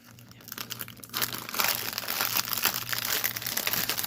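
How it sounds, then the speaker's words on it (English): A plastic bag holding cross stitch thread is crinkled and handled up close, starting with soft rustles and swelling into continuous loud crackling and crumpling, with no talking. "Sorry for the crinkling."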